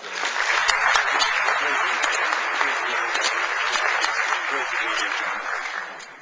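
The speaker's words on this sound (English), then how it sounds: "round of applause" A conference audience in Chicago claps enthusiastically after a CEO welcome speech, a dense sustained wave of applause that holds steady and then fades out at the end.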